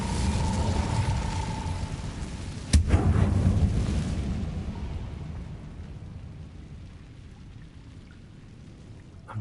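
An Incendio fire spell cast in the Hogwarts Legacy game lands as a sharp explosive crack with a short crackling burst, then fades into a quiet rumbling tail, with no one talking over it.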